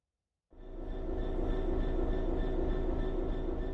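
A train in the Train Sim World 3 video game runs with a steady, loud rumble and hum starting abruptly after half a second of silence, with tonal whine above, continuing unbroken to the end.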